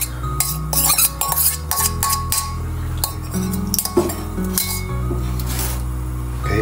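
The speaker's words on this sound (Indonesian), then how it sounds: "saya siapkan steaman atau kukusan dan saya ganti wadah karena yang tadi agak gede wadahnya" A steamer pot and dishes clatter while being set up to steam chicken, with close, repeated metallic clinks and knocks of pans and lids in an irregular rhythm.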